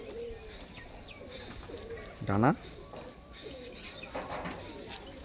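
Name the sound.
pigeons cooing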